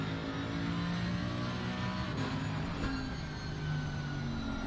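Mercedes GT3 race car engine in Assetto Corsa Competizione, a steady droning engine note held at fairly constant revs, moderately loud and unbroken, with no talk over it.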